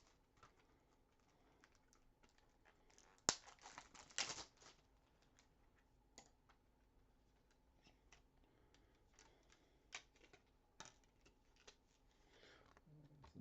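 A package is cut open with a blade or scissors: faint, scattered snips and scratchy rasps, then a short burst of louder cutting and tearing. Light taps and rustles follow, quiet and close.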